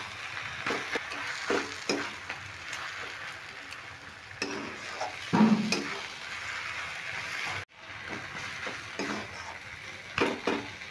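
Shredded cabbage cooks dry in a pan for a vegetarian dish, sizzling steadily as a spatula stirs and scrapes it, with occasional clinks of the utensil against the pan, close and unaccompanied by talk.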